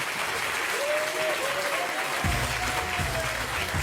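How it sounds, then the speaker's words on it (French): Applause from a French TV studio audience welcomes a guest, dense clapping throughout, with a low rumble and a thin tone joining partway through. "Des applaudissements pour lui."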